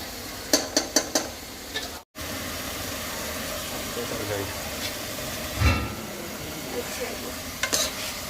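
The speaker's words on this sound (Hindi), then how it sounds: "ये देखिए, ये हम कीमा डाल रहे हैं।" Minced meat keema frying with cinnamon and black pepper in a pan, a steady close sizzle with clanks of a spoon against the pan at the start and end, someone talking over it.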